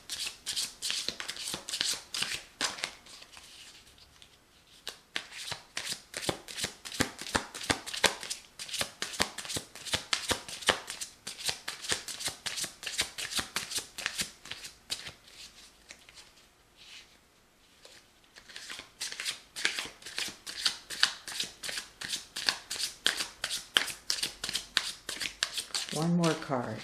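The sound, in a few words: shuffling tarot cards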